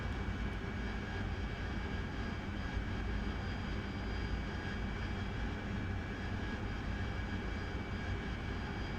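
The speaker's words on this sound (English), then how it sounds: "I've turned my sounds of the jet down just a little bit." Steady, loud, unbroken engine roar of an AV-8B Harrier jet in the DCS World flight simulator, with a dense rumbling drone holding even throughout and no voices.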